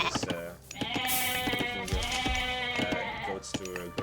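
Goats bleat repeatedly in a strategy video game, several overlapping calls in a steady run, loud and close over faint game ambience.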